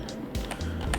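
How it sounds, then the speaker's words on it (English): Quick burst of typing on a computer keyboard during drawing work in Inkscape, a few close, distinct key clicks over about a second with no talking. "Let's just type."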